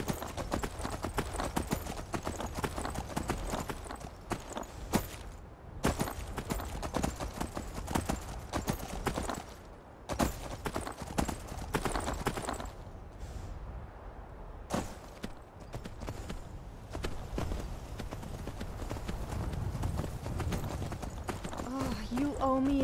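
Steady clip-clop of horse hooves at a brisk gait in Skyrim, continuous and fairly close, with game music and effects layered over it.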